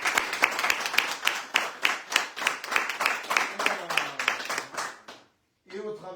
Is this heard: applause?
yes